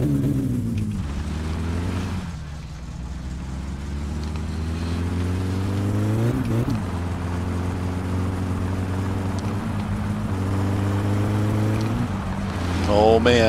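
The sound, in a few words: car engine revving and shifting in the video game My Summer Car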